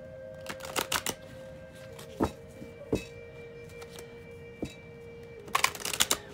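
Tarot cards shuffled in short papery bursts, a few clustered flicks early, scattered single snaps in the middle, and a denser riffle at the end, close and fairly quiet over a faint steady hum.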